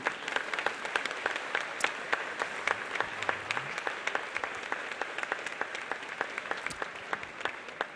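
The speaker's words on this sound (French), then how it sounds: "Merci d'applaudir Madame la ministre, s'il vous plaît." Scattered, moderately quiet clapping from the audience for the minister at the inauguration of a public aquatic centre; individual claps stand out distinctly over several seconds of ongoing applause.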